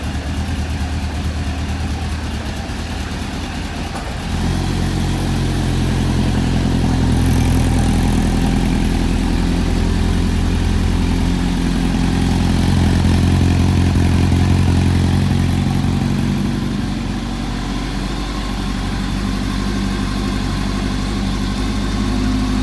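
Suzuki Katana motorcycle engine idling close by, a steady low rumbling idle that holds level throughout.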